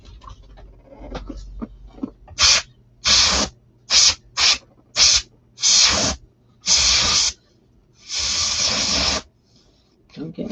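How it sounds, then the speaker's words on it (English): A handheld spray can hissing in about eight short, loud bursts of varying length, separated by pauses, close to the microphone, with faint background noise between sprays. "I need some spray stuff."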